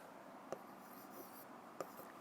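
Pen or marker writing out a quadratic equation during a math lesson, a faint soft scratching across a quiet room, punctuated by two sharp taps.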